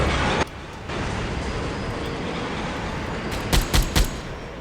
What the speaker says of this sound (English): I celebrate with gunshots.